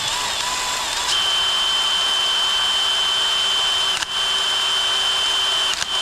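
A power drill with a fresh bit bores into a hardened bolt on a Craftsman DLT3000 riding mower, a steady high whine running continuously, briefly interrupted twice.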